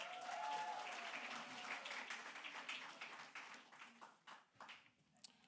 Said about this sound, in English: All right, and a round of applause for Judy.